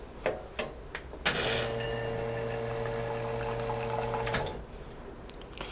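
An espresso machine group head flushing a strong single stream of water into a pitcher: a steady rushing, hissing flow with a low pump hum that starts abruptly, holds for about three seconds and cuts off, after a few faint clicks.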